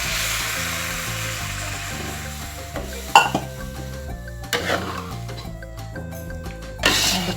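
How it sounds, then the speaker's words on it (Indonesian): A spoon scrapes and clinks against a pan as fried rice vermicelli is stirred, with a soft sizzle underneath and a sharp metallic knock partway through. "Aduk kembali hingga merata."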